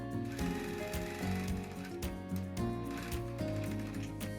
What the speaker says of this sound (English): We're going to line it up and we're going to sew using a 1/4 inch seam allowance.